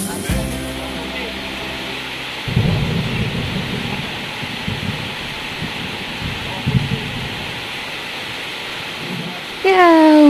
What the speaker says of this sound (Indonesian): Ya, hujan